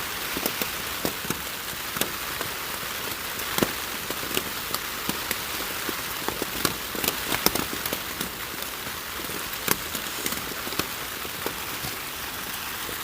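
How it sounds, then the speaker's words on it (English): Rain patters steadily on a taut tarp over a hammock in the woods on the Appalachian Trail, with scattered louder drops plinking irregularly through a soft, even hiss. "what it sounded like in my hammock under the tarp when it was raining"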